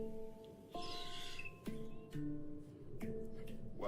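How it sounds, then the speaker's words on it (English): Birds chirp and tweet in the background behind sustained handpan tones, with short bright calls scattered over the steel drum's ringing notes at moderate volume. "You hear those birds in the background?"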